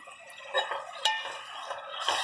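Minced meat (keema) dropping into a hot pan of frying onion, ginger and garlic, with a steady close sizzle, soft scraping and a couple of metallic clinks of a utensil against the pan.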